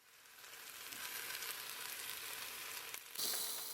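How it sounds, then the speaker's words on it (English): Vegetables and garlic fry in a pot over medium-high heat for beef stew, a soft continuous sizzle that swells after the first second and brightens near the end. "You want to cook your vegetables on a medium to medium-high heat for about 5 to 8 minutes."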